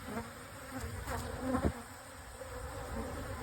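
Honeybees buzz around a hive during a mite-treatment check, a soft, continuous droning hum with a few individual bees passing close to the microphone.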